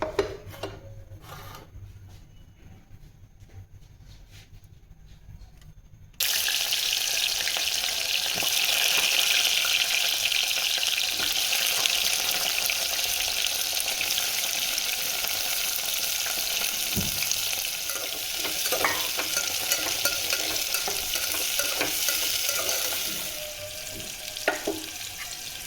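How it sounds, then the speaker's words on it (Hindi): Bitter gourd sizzles and crackles steadily in hot oil while being stirred, a loud continuous frying hiss that starts abruptly after a quiet opening and eases slightly near the end. "करेले हो रहा फ्राई"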